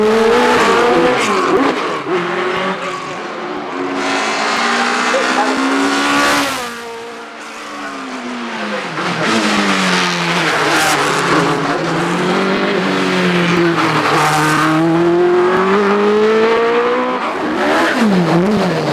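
The Gould Hart race car climbs the Shelsley Walsh hill course at a British hillclimb championship, its engine screaming loud and close through repeated upshifts, rising and falling revs as it powers up the slope.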